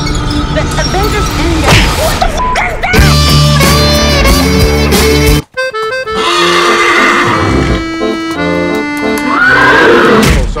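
A horse whinnies loudly in a chaotic comedy talk-show scene, with shrill neighs over loud clatter, crashes and music and a sharp break midway.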